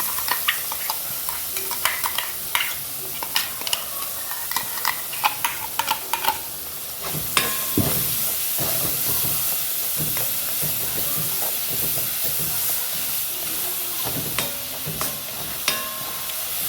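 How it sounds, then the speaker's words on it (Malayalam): Spice paste fries in coconut oil for pineapple pachadi, a steady close sizzle and hiss with frequent scraping and stirring clicks from a utensil. "ഈ വെളിച്ചെണ്ണക്കകത്തോട്ട് നമ്മുടെ അരപ്പൊന്നിട്ട് ഇട്ട് കൊടുക്കാം അരപ്പ് മുഴുവനായിട്ട് ഇട്ട് കൊടുക്കണം"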